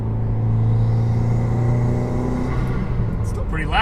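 A 2015-or-later Subaru WRX fitted with a Cobb intake, heard from inside with windows up during a downshift: a loud, steady low engine rumble with droning tones that shift slightly, continuous and close.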